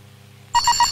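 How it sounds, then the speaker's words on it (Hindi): A mobile phone starts ringing after a quiet half second, giving three quick electronic ring pulses, loud and close, with no talk over it. "तेरा मोबाइल बज रहा है।"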